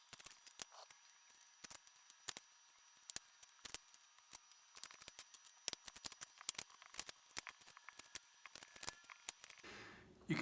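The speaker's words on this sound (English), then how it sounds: "You can probably tell I've never cut up an onion before" Kitchen knife chopping an onion on a cutting board while making chicken soup, a dense run of quick, sharp, irregular taps continuing throughout at close range, with no talking.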